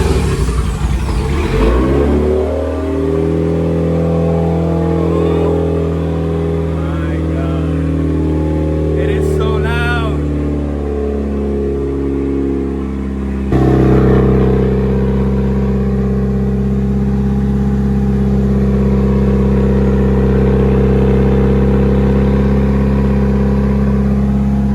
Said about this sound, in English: I'm also recording the exhaust itself, but let's see how it sounds